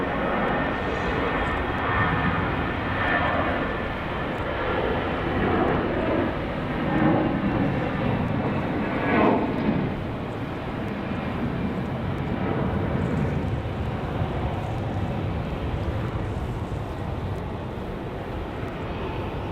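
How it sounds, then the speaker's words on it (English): An Airbus A320 departs from Raleigh-Durham International, a steady, moderately distant jet engine roar with a rumbling low end that rises slightly and then holds as the plane climbs away. "Be a nice sounding departure out of the A320"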